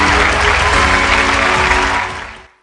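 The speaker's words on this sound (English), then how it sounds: "with a standing and clapping ovation" Audience gives a standing, clapping ovation at a live-streamed event, a loud sustained burst of clapping mixed with a steady tone that holds, then fades out quickly at the end.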